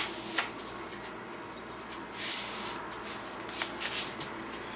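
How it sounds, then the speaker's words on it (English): Paper is folded for a simple craft, with soft rubbing and crinkling bursts scattered over a quiet background, a few brief sharper creases standing out close by. "And then fold your flap over."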